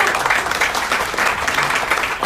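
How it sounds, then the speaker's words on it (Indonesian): A crowd at Care City Church in Jakarta claps together, a dense, even burst of applause filling the room for a couple of seconds. "Tepuk tangan dong."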